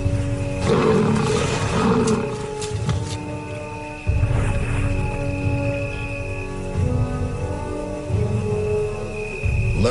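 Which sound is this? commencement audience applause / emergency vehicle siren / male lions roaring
male lions roaring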